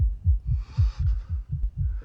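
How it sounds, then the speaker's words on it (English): Fast, heavy heartbeat sound effect from the vampire drama series, with roughly eight steady low thumps in two seconds, loud and up close with no talk. "Why's your heart beating so fast?"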